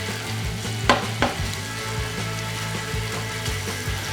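Fajitas sizzle on a Blackstone E-Series electric griddle with a steady close frying hiss, punctuated by a couple of sharp metallic spatula scrapes and soft rhythmic tapping of the turner against the cooktop.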